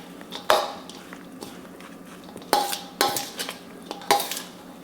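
Sweet and spicy coleslaw being tossed in a bowl, with a few distinct clattering utensil hits against the bowl and soft shuffling of cabbage between them, close and without talk.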